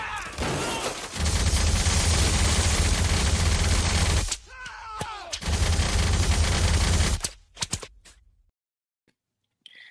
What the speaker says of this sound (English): That is a 20 mil cannon.